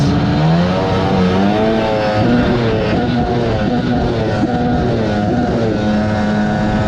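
A 1996 Sea-Doo XP 800 jet ski with an 800 cc two-stroke engine runs steadily, its loud, buzzy drone rising and falling slightly in pitch with small throttle changes, close by and continuous.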